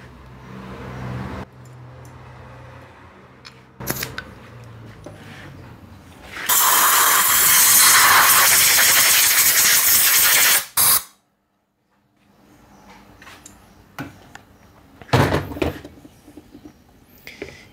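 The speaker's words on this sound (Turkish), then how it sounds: "Bir hava tutalım içerisine." Compressed air blasting into an Opel Corsa brake caliper: a loud, steady hiss that runs for about four seconds and cuts off sharply, with quieter workshop clatter and short bursts around it.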